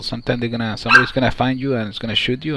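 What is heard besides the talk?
dog barking in the room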